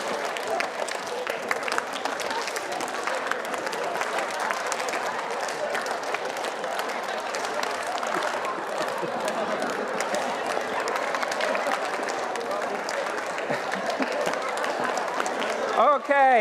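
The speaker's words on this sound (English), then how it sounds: "now it's going to be clap, stomp, and shimmy" A conference audience at a design event claps, stomps and shimmies in turns, making a dense, continuous crowd noise of clapping and foot stomping that holds steady at a close, loud level throughout.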